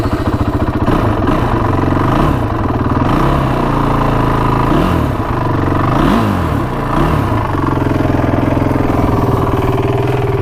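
A Honda TRX450 ATV, freshly repaired after a carburetor gasket fix, idles steadily while warming up, its loud close engine holding a continuous throbbing drone with slight wavering revs throughout.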